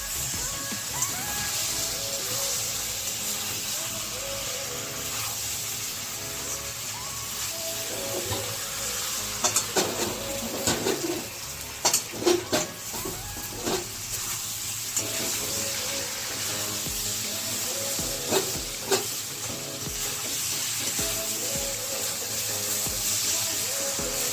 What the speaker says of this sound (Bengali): এঁচোড়, চিংড়ি, আলু সব ভেজে দিয়ে রেখেছি, সেটা দিয়ে একটু কষে নেবো